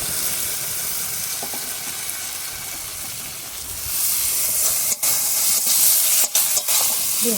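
Spice paste (masala) frying in oil in a pan, giving a steady close sizzling hiss that grows louder partway through, with a few brief breaks near the end.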